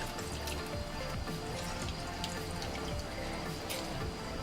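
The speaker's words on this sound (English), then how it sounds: "So I'll squeeze my lemon inside the warm water." Lemon juice squeezed into a glass of warm water, giving a steady run of soft drips and trickling liquid with faint splashy detail, close and fairly quiet, with no talking.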